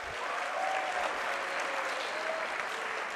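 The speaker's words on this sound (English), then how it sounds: "give them all a big, big round of applause" Students at a school assembly applaud, an even wash of many hands clapping at moderate volume, continuous and unbroken through the whole stretch.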